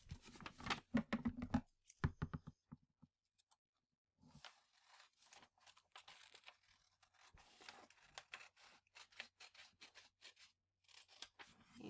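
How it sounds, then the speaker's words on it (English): Scissors cutting along a fold in a sheet of paper, with soft, quick snips and crisp slicing strokes in irregular runs, close but quiet, with short pauses between cuts. "with your scissors, you can go ahead and cut along"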